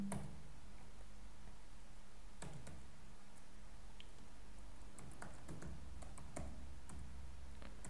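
Someone types on a computer keyboard, giving faint, scattered keystroke clicks in loose bursts over a quiet, steady background hum.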